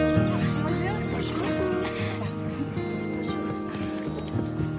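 Horses brought out by young apprentice riders, with hoof clip-clops and whinnies mixed under a busy bed of music and chatter, voices talking throughout.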